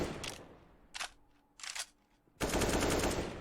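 Counter-Strike gunfire on the Nuke map comes as short bursts of automatic fire, then a sustained loud volley that ends the clip.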